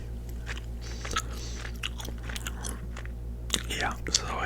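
Someone chews 5 Wintermint gum close to the mic, producing soft, irregular wet smacks and crunches across the clip, with faint whisper-like breaths over a steady low hum.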